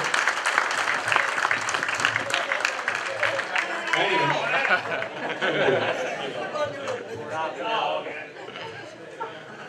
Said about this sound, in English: Give him a big round of applause, please.